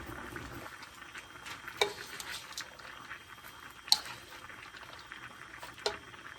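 Vegetables for shrimp lo mein being sautéed and stirred in a pan, a soft steady sizzle under scraping stirs, with three sharp utensil clinks spaced about two seconds apart; no one speaks.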